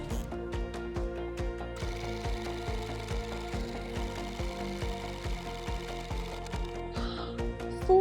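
Sewing machine stitching a buttonhole on a denim skirt, a steady rapid mechanical rhythm of needle strokes with regular sharp pulses, close and continuous throughout.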